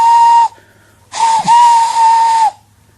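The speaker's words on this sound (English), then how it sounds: "Everyone knew that whistle," A steam engine's whistle shrieks loud and close in two blasts, a short one then a longer sustained one, with a hissing edge of steam around the steady tone.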